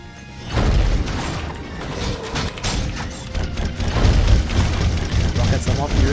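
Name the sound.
rocket explosions in the video game Secrets of Grindea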